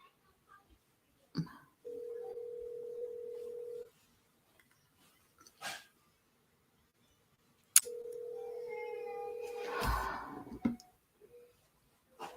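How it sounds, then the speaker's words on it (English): A phone rings twice through a speaker, each steady two-second tone separated by silence, with scattered clicks and a short noisy rustle. "You can hear the phone ringing."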